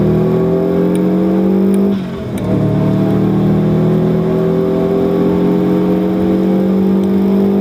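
A car on track at Knockhill circuit drives out of a corner, its engine droning loud and close, briefly dipping before rising steadily in pitch under sustained acceleration.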